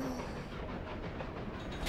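A moving train rattling along its rails, heard as a steady, muffled rumble and rolling hiss that stays even throughout a brief stretch, with no voices.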